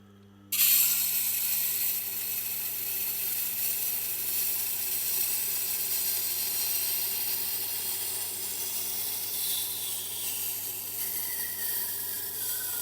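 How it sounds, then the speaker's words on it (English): Tormek SB-250 wet grinding wheel sharpening a large machete, a steady close whirring hum with a continuous hissing scrape of steel on stone that runs unbroken after a sudden start. "You want to give the grinding wheel a chance to give it a full bevel."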